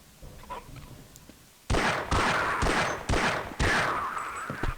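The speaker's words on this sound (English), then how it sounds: "I'm going to show the pistol headshot tactic right here." A pistol fires at a zombie's head in Half-Life: Blue Shift, with about five sharp, loud, evenly spaced shots that follow a quiet lead-in.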